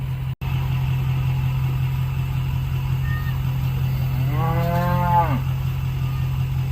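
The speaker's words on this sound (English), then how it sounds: "get the cows in the head gate" Cattle on a farm being moved into a head gate: one loud, drawn-out moo near the end over a steady engine idle and low hum, with a faint short call just before it.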